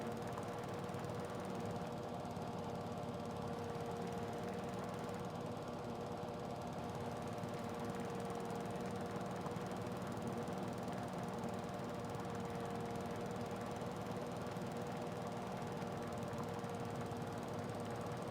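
A zero turn mower engine from Farming Simulator 22 drones continuously at a steady pitch and level throughout, a constant mechanical hum with no pauses and no talking.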